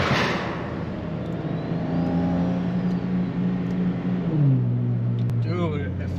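A car engine revs and then eases off as the driver lifts slightly off the gas, a loud nearby rumble with a rising then falling pitch sweep and a brief chirp near the end.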